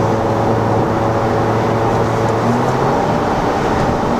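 Inside a Volkswagen Golf GTI Clubsport with its resonator deleted, cruising in fifth gear at 110 on standard Pirelli tyres: a steady loud drone of road and tyre roar with a low engine hum beneath, unbroken throughout.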